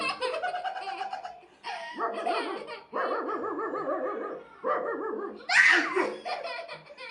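A man mimics dog barks for a small child in a playful home setting, giving short bursts of yapping imitation mixed with the child's giggling laughter, close and lively with brief pauses.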